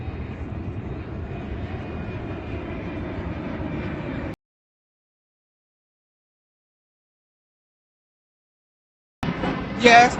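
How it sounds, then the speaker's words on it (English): Airplane flying near the airport by the Jefferson Memorial in Washington DC, a steady droning engine rumble for about four seconds, then silence, then a short noisy burst of outdoor sound. "Yes, that is a plane, as I said."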